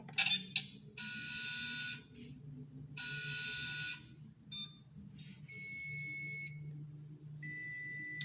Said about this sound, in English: Pretty nice beeps and boops.